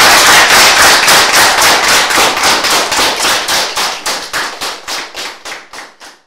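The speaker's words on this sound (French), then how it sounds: "On applaudit encore une fois les deux invités." A studio audience applauds two guests on a French-language business programme, with sharp rhythmic clapping in unison that starts dense and loud, then slows into distinct spaced claps as it winds down.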